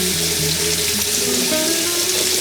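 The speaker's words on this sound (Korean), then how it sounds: "흐르는 물에" Tap water runs steadily over fruit and vegetables in a sink, a loud, close, continuous rushing stream with no talk.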